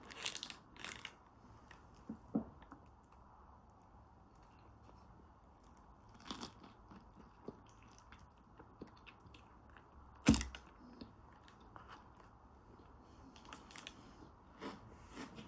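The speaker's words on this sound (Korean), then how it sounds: "두바이 초콜릿 딸기 모찌? 이걸 한번 사봤어요. 너무 궁금한데 한번 먹어볼게요" Biting into and chewing a Dubai chocolate strawberry mochi, with a few sharp crunchy bites and soft, quiet chewing between them, close up and faint.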